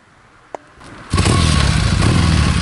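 A 1974 Triumph T140V motorcycle kick-started: a faint click and kick, then the engine catches at once and settles into a loud, steady idle close by.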